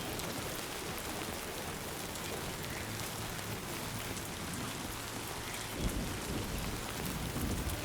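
Steady heavy rain and rumbling thunder in the video game Death Stranding 2, a dense continuous wash with a low thunder roll swelling near the end, no voices.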